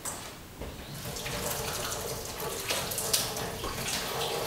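A tap runs steadily into a sink during hand washing at a pottery glazing workshop. The water splashes close and continuous, with small changes as hands move under the stream, and no one talks.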